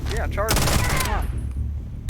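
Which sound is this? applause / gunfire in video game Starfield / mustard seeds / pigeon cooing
gunfire in video game Starfield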